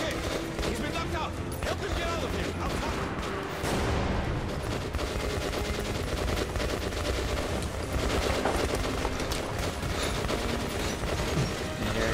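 Rapid automatic gunfire fills the action of the video game Metro Last Light, with dense bursts and booms running loud and continuous, under a voice talking.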